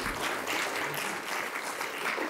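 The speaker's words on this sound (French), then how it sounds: "Allez, on peut l'applaudir." An audience at a public political meeting in Lille applauds a newly elected member of the National Assembly, a dense, steady wash of clapping from a crowd that keeps going without a break.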